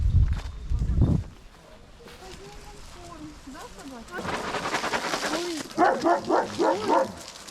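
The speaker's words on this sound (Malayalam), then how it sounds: "ഇവർ മുഴുവൻ ആളെ കാണുമ്പോൾ തന്നെ കൊര തുടങ്ങും" Several abandoned dogs at a zoological centre bark in short bursts, a cluster at the start and a rapid run of barks near the end, with talking in between.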